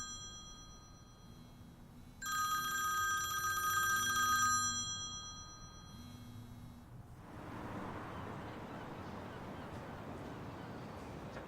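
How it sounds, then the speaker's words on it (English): A telephone bell rings in a quiet room, a bright electronic trill sounding in two bursts before fading into soft background hiss. "your phone's ringing"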